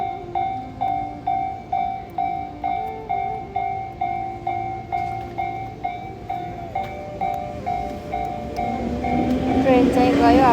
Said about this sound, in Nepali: ट्रेन चाहिँ गयो